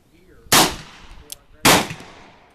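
A French Ordnance revolver fires two sharp shots about a second apart, loud and close, each with a short ringing decay and small noises between them.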